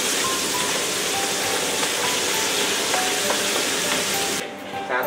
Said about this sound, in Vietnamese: Các bác chúng ta chiên lên thì nó sẽ không bị nhớt,